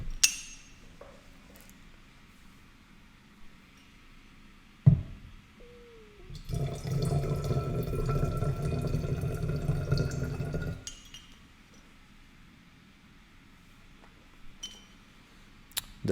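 Water poured into a glass vessel in a single stream of about four seconds, bright and splashy against a quiet background, framed by a few clinks of glass before and after, with no voices.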